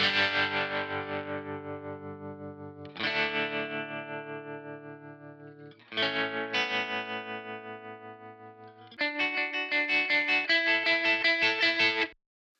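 Electric guitar chords through a Kemper Profiler strummed in four sections with a wavering chorus-like effect, each left to ring and pulse before the next, ending in a faster rhythmic part.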